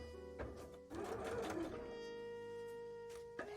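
A sewing machine runs in a short stitching burst and then stops, stitching fabric for a cosplay bra, with a steady hum and fast needle rhythm close by.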